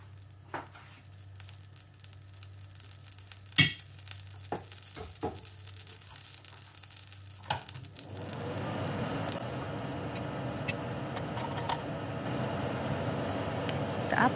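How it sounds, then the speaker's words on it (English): A few sharp clinks and taps give way to a steady sizzle as apples start frying in butter in a hot pan, growing fuller and louder. "The apples go into the pan and cook for a few minutes until they begin to soften."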